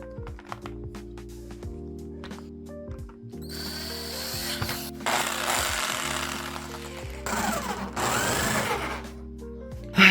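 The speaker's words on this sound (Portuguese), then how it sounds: "Consegui comprar outra serra pra tico-tico, então bora continuar a cortar essa porra dessa mesa." A newly bought jigsaw cuts through a wooden table with a buzzing, rattling drone that rises into long loud stretches of cutting. Short bursts and pauses come between the cuts, and no one talks.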